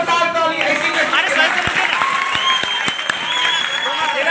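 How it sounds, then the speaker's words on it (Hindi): A crowd applauds a teacher at a gathering, with steady, dense clapping sustained throughout and a few sharper individual claps standing out near the end. "एक जोरदार ताली ऐसी में।"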